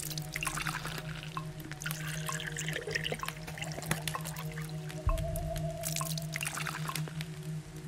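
Water pours and trickles in the Day R Survival game while dirty water is being filtered, with splashes, drips and running liquid over a steady low game hum and no talking.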